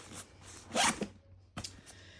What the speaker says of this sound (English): Now, next pocket, 2 zipper pulls on this one.